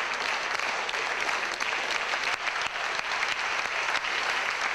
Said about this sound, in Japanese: 1時間20分に及ぶステージはスタンディングオベーションで幕を閉じた